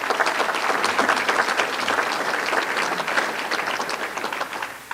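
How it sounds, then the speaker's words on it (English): Audience at a State of the Economy address bursts into sustained applause, dense steady clapping from a large crowd filling the room without pause for several seconds. "That deserves a round of applause."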